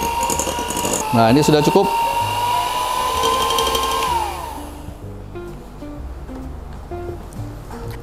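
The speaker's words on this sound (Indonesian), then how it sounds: "Kemudian kita kocok kembali. Pakai speed yang rendah aja ya." An electric mixer runs at low speed through brownie cheesecake batter, a loud close whir that cuts out after about four seconds; a voice speaks briefly afterward.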